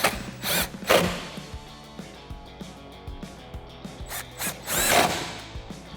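Power driver fitted with a T40 Torx bit working fasteners on a Jeep Wrangler JL during a snorkel install, a few short whirring bursts with clicks and handling noise between, close and alone.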